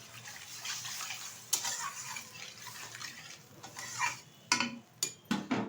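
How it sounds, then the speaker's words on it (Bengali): Water poured into a pan of fried spice paste for a rohu fish curry with potato and ivy gourd, giving a close, steady hiss and sizzle with a few sharp clinks and scrapes near the end. "এখন দিয়ে দেবো এর মধ্যে পরিমাণ মতো জল।"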